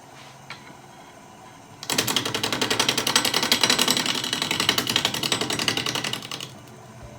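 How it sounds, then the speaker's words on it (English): A 5/8 bowl gouge cutting an uneven wooden blank spinning on a lathe, a fast rhythmic chattering rattle as the tool bites each high spot, close and steady for about four seconds before easing off. "I think that we'll try to use a 5/8 bowl gouge here."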